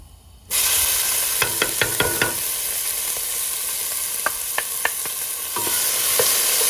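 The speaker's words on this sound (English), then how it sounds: "I'm going to fry these for maybe 2 minutes the most" Ginger and garlic drop into hot oil for a Punjabi potato and aubergine dish and burst into a loud, steady sizzle after a brief quiet start. Sharp clicks of a spoon against the pan break in at intervals.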